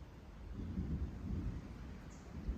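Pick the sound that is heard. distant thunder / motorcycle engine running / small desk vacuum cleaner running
distant thunder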